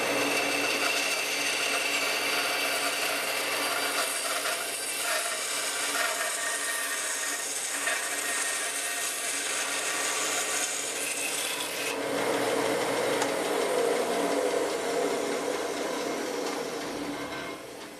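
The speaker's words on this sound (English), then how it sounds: "I'm just going to come to the bandsaw and run it through here so that way I can release those things" Bandsaw cutting through wooden fret marker plugs, a continuous close, loud rasping buzz of blade on wood lasting the whole stretch, its tone dropping and roughening midway as the cut progresses.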